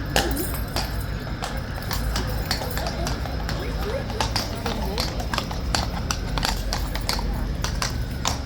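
Horse hooves clopping at a steady walking rhythm, close and crisp, with a voice talking over the scene.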